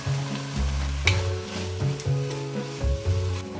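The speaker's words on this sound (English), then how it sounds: "Next, I'm adding the pea crumbles." Rehydrated pea protein crumbles, soaked in veggie broth, hit a pan of cooking mushrooms with a loud sizzle, the frying crackle swelling and settling in short waves as the mixture is stirred.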